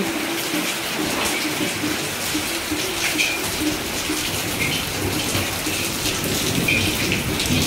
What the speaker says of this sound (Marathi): त्याच प्रकारे भरपूर पाऊस पडत आहे